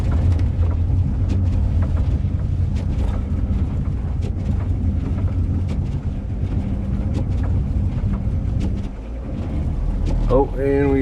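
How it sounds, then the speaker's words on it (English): Van tires spinning in deep snow during a heavy winter snowstorm, a loud continuous churning rumble with wind noise throughout, and a brief voice near the end. "Oh, and we are spinning tires"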